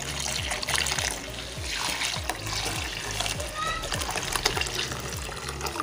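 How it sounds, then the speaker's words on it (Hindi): Boiled milk poured little by little into rice for kheer, a steady splashing, trickling stream heard close up over a low rhythmic hum, with faint speech in the background. "तो मैं थोड़ा थोड़ा करके सारा दूध डाल दूंगी मैं जो बॉईल करके रखी हूँ।"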